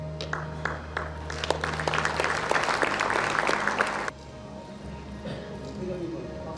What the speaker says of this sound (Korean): 여러분 다시 한번 큰 박수로 축하 부탁드리겠습니다